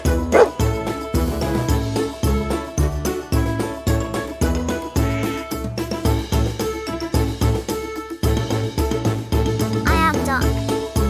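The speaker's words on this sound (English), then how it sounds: "I am dog." A cartoon dog barks in a farm-animal song for toddlers, with several yipping barks over loud, steady children's music.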